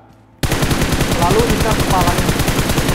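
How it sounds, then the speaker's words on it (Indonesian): Rapid automatic gunfire bursts out after a brief quiet moment during shooting practice at objects in PUBG Mobile, a loud, continuous stream of shots with someone talking over it. "kita juga harus latihan tembak objek-objek kayak gini lah untuk latihan"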